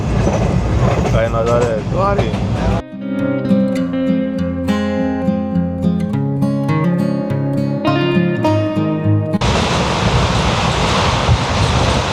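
Konkan Railway train 09057 running from Panvel to Gokarna, a loud rushing rumble and rattle of the carriages at the start and end, with music playing over the quieter middle stretch.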